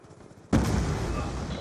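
A sudden loud burst of gunfire cuts in halfway through, sustained and dense, in a military first-person shooter game. Faint background game noise comes before the burst.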